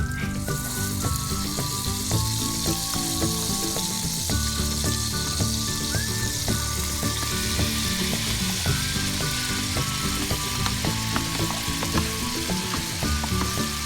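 Homemade sofrito frying with salchichón salami in a pot for Puerto Rican salami soup, a steady, close, loud sizzle with occasional stirring scrapes throughout, no voices.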